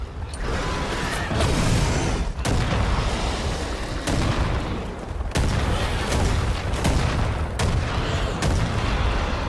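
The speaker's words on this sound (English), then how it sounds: "it might be faster for me to just throw proxy bombs at them" Proxy bombs explode in Far Cry 5 amid dense, continuous combat noise, with repeated sharp blasts punching through a steady roar at irregular intervals, loud and close throughout.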